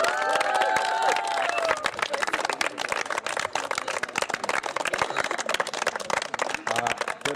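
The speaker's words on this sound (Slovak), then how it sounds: "A teraz by som vás poprosil, aby ste si dali jeden veľký potlesk sami sebe" Applause for a women's volleyball team at a bronze-medal ceremony, steady dense clapping from a crowd indoors, with a few whistles and voices over it.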